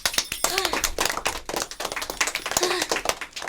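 Small group clapping during a radio Christmas story about Santa and his reindeer, a loose rhythm of sharp hand claps close to the microphone, with a voice heard between them.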